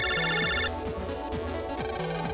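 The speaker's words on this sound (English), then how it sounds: "Man, you got a phone call." A ringing phone-call tone from the Game Boy Advance game Mega Man Battle Network 3 Blue, a bright repeating electronic jingle that chirps briefly then gives way to the game's looping background music.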